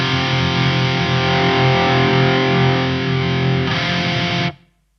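Electric guitar played through a Marshall ShredMaster distortion pedal, a loud sustained chord with thick saturated tone that shifts slightly brighter near the end before being cut off into silence.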